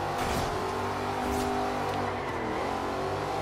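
A car drifting in Forza Horizon 2 on Xbox One: a steady, loud engine drone with shifting pitch and tire noise under it, sustained throughout.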